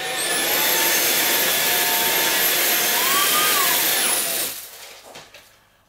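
JIMMY JV85Pro cordless vacuum cleaner running with a steady, loud high-pitched motor whine and airflow hiss, then abruptly switching off and spinning down into near silence.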